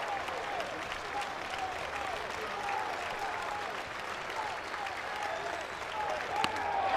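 A Tennessee Volunteers home crowd at a 2024 NCAA regional baseball game against Indiana cheers and applauds steadily for their left-handed pitcher, a broad roar that stays even throughout while a commentator talks over it.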